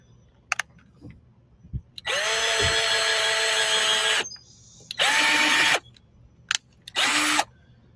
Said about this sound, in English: I'm gonna go ahead and put in my drill holes.